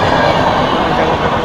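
The Rajdhani Express rushes past at close range, a loud, dense roar of wheels and carriages filling the whole moment without a break.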